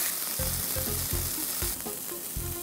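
Chicken sizzles steadily in a hot pan on a cooking show as it is pressed down for a barbecue look, with repeated low thumps and scrapes of pressing over continuous frying crackle.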